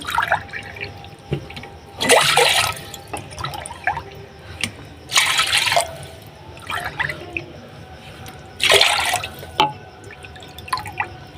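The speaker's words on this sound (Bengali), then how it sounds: "আমি পাঁচ কাপ জল নেব এক কাপ মেরে মেরে এই করবো চার কাপ চা করব এই যে পাঁচ কাপ জল নিয়ে নেবো আমি" Water is poured into a pot to make tea with jaggery, heard as three separate splashing pours a few seconds apart, each loud and bright, with quieter dripping and kitchen clatter between them.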